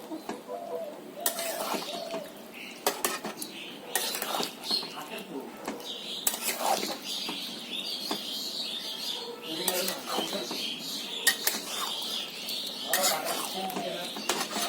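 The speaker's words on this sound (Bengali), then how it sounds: "এখন ভালো করে আমি ঘিটাকে তরকারির সাথে মিশিয়ে নেব।" A spoon stirs a spoonful of ghee into a capsicum, potato and paneer curry in a pan, making intermittent metallic clinks and soft scrapes at close range over a quiet background.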